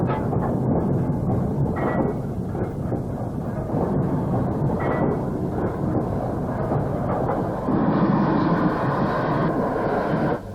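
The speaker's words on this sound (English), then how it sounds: "the train arrives at its destination" A steam train rumbles in on arrival at Colwick with a dense, continuous roar and clatter that stays loud throughout, shifting slightly in tone near the end as it draws in.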